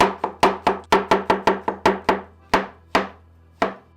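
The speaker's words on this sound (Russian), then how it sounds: "шампиньоны пополам и на слайсы." Knife slicing champignon mushrooms on a cutting board, about sixteen sharp close chops in a quick uneven rhythm that slows toward the end, with no talk.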